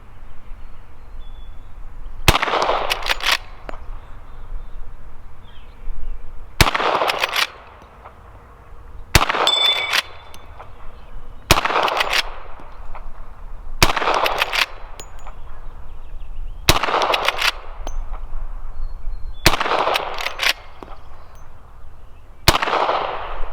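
Eight loud rifle shots from a Henry Model X lever-action in .38 Special/.357 Magnum, fired at a steel Texas Star target, spaced a few seconds apart, with faint metallic pings from struck plates and a quiet hum between shots.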